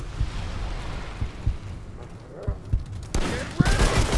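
Gunfire in the video game Remnant 2, dense bursts of game shots and impacts that grow louder and busier toward the end, with a player shouting over the action.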